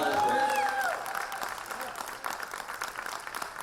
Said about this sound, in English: Big round of applause for Chris Rootson.